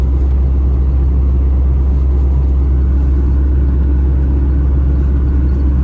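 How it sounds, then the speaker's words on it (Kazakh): A car heard from inside while driving through a residential area of Almaty: a steady low engine and road rumble fills the cabin continuously, with no voices. "Сіздер көріп отқандай мен көлікте келе жатырмын."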